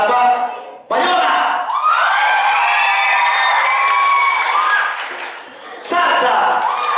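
At a comedy bar crowd contest, a loud crowd erupts in cheering, whooping and shouting with clapping underneath, in bursts that swell, dip briefly and surge again.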